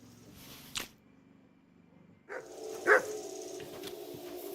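A dog in Kingdom Come Deliverance II gives a couple of short barks and yips, one near the start and a louder one partway through, over quiet game ambience.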